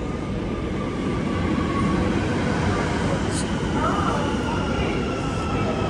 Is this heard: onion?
no